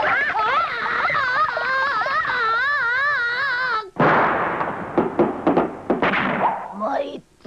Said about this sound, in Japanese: 花火爆弾でござるよ。